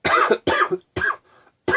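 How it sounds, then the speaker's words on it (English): A person in a casual home vlog coughs close to the microphone, three harsh barking bursts in quick succession followed by a short fourth one, with brief silent gaps between. "Sorry about the cough"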